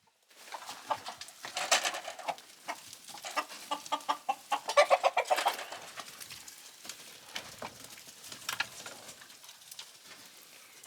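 Rooster kept among a flock of 24 hens, with repeated clucking and squawking bursts from several birds at moderate distance, busiest in the middle and trailing off toward the end.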